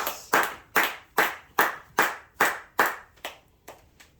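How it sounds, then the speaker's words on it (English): Close, steady clapping from one person or a few hands, about ten sharp claps in an even rhythm that slow and soften near the end, at a talk-show introduction. "I want everyone to give a big, warm round of applause for Pops."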